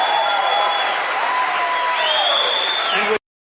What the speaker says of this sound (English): The totally normie-con, Trump-hating establishment crowd there cheering for Marco Rubio